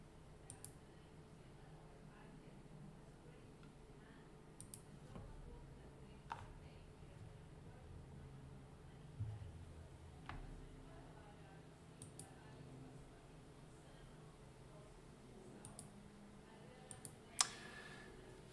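Sparse computer keyboard taps and mouse clicks at a trading desk, isolated sharp clicks spaced seconds apart, faint under a low room hum with some background speech.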